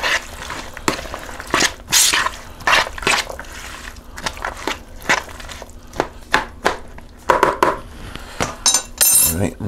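Salsa with Vidalia onion and jalapeno gets mixed in a bowl, a spoon scraping and clinking against the sides in a rapid, irregular series of close, sharp knocks and scrapes, with no voices.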